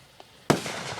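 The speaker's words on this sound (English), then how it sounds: "Explosion." A Fourth of July firework bursts with one sharp, loud bang after a faint earlier pop, followed by a crackling, hissing tail that fades slowly.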